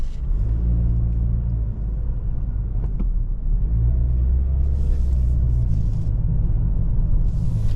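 A naturally aspirated 2-liter engine in a 2024 Toyota Corolla SE pulls away under acceleration, a steady low rumble with road noise running unbroken and fairly loud throughout, with no talking.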